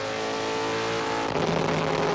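A CASCAR Super Series race car on the road course at Trois-Rivières, engine note rising and falling as the driver blips the throttle and heel-and-toes down through the gears, loud and steady throughout.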